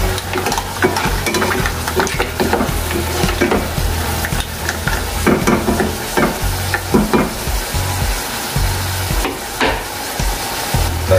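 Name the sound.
stirring squid and clams frying in a pan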